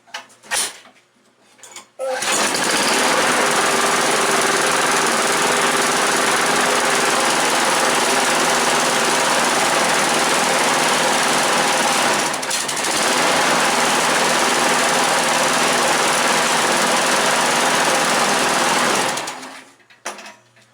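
Two John Deere JS60 push mower engines run together, one a curbside find, with a loud, steady, close buzzing roar that holds for nearly twenty seconds after a short start, briefly dipping midway, with no talking.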